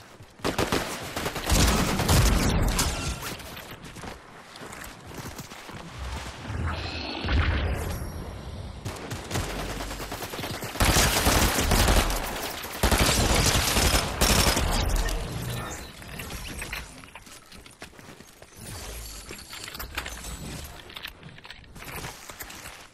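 Dense Fortnite gunfire, rapid volleys and bursts of shots mixed with crashes and footsteps, loud and continuous with a brief voice in the background.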